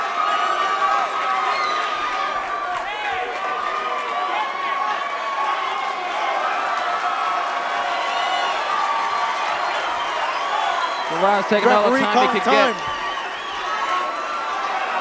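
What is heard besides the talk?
boxing crowd cheering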